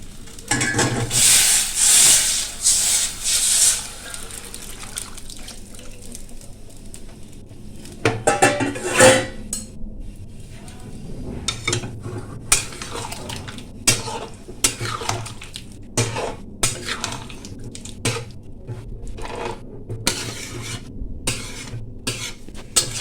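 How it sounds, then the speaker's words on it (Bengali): Hot water poured into a pan of potatoes fried with spices for aloo dum: a loud hissing, bubbling rush at the start, then quieter sizzling with scattered clinks and scrapes of a utensil against the pan. "মশলার সাথে আমার আলু কষানো হয়ে গেছে। এবার আমি গরম জলটা দিয়ে দেবো।"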